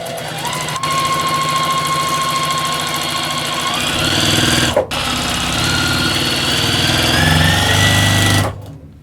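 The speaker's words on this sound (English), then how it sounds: "I'm going to sew this to this piece." A sewing machine stitches scraps of quilting fabric with a quarter-inch seam in one loud, close, continuous motor run that briefly pauses midway, then speeds up and stops at the end.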